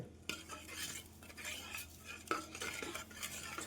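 Jaggery stirred into Ugadi pachadi in a vessel: a spoon scrapes and clinks in repeated close strokes, fairly quiet, with no one speaking.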